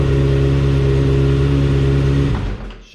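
A motorcycle engine idles loudly and steadily at close range with a constant harmonic drone, then cuts out abruptly after about two and a half seconds as the bike is shut off, leaving near silence.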